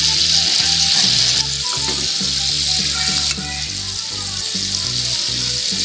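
Hot cooking oil poured into flour for pastel pastry dough crackles and sizzles loudly and continuously, a close, dense frying hiss that holds steady for several seconds with no voices.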